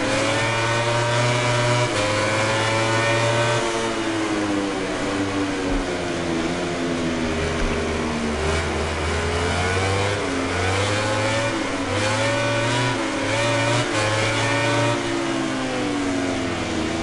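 A Suzuki racing motorcycle in the MotoGP 19 game screams through its revs, pitch sweeping up and down with repeated shifts and throttle changes, loud and continuous without speech.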